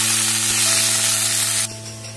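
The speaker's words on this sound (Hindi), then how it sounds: "यहाँ पे इसको धीमे गैस पे ही, एकदम स्लो गैस पे थोड़ी सी फ्राई करेंगे, चलाते रहेंगे लगातार ताकि ये जले नहीं" Fenugreek leaves frying over a low flame give a loud hissing sizzle with a steady hum beneath, which drops off sharply near the end of the short stretch.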